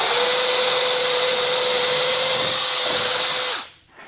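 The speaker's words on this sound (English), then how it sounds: "I'll use them as a template to drill out the 2x6. And I'll be using a 1/2-inch drill bit." Power drill boring through a 2x6 with a 1/2-inch bit, a loud, steady high-pitched whine held for several seconds before spinning down abruptly, with no one talking.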